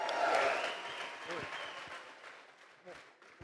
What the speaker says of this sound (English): Ladies and gentlemen, a round of applause for Yoshi Kanai, your winner tonight.